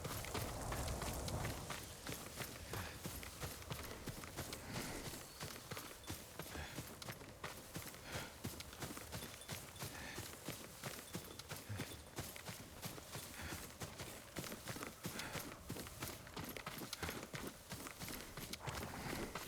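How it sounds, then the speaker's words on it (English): A horse's hooves clip-clop at a steady running pace through a stretch in the video game Ghost of Tsushima, continuous and fairly close, with no talking. "Yuriko's horse."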